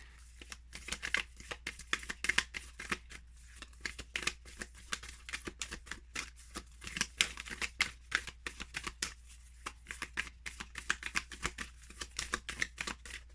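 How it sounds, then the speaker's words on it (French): Oracle cards from a Moonsprites deck shuffled by hand, a steady run of quick crisp riffling clicks and slaps close up, continuing alone without voices. "je vais avoir du fun à brasser ces cartes-là"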